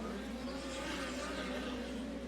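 Midget race cars roar through turns one and two and down the backstretch at Jacksonville Speedway, a steady distant engine drone without breaks.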